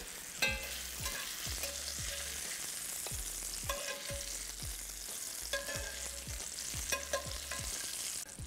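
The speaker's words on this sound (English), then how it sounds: "Now with a slotted spoon, I'm just going to lift that chorizo out of the pan." Chorizo frying in a pan for Basque chicken, lifted out with a slotted spoon: steady quiet sizzling with regular metallic scrapes and taps of the spoon against the pan throughout, no talking.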